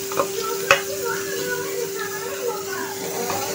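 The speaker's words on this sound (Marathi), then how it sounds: "आणि वाटण छान असं तेलामध्ये मस्तपैकी फ्राय करायचं आहे।" Ground masala paste fries in oil for an egg butter masala curry, a steady close sizzle broken by a few stirring knocks, with a voice talking faintly in the background.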